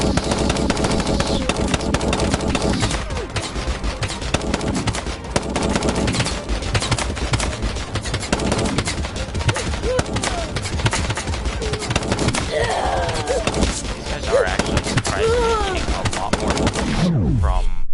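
Machine gun fire in the video game TABS rattles in dense, continuous bursts for the whole stretch, loud and close, with rapid repeated shots and a few sharper hits near the end.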